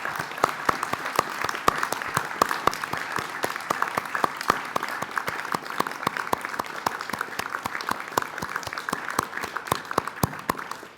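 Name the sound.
audience applauding graduates at graduation ceremony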